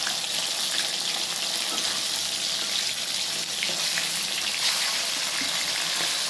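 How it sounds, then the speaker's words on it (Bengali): Rupchanda (pomfret) fish frying in a pan of oil, giving a steady, dense, close sizzle that holds evenly throughout with no talking. "এই যে মাছগুলোকে ভালো করে ভেজে নিয়ে, রূপচাঁদা মাছ খেতে খুব ভালো লাগে"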